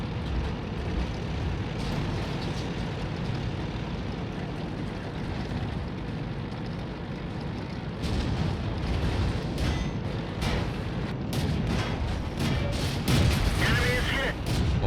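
Tank cannon shots from a T49 in World of Tanks ring out repeatedly over a constant rumbling battle din, with sharp reports growing denser in the second half while a voice talks over the action.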